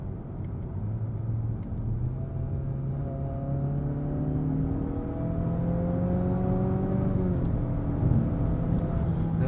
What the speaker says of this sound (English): There is a delay, a defined delay, when I go fully on the throttle before the engine, transmission, whatever wants to be the culprit here, does respond.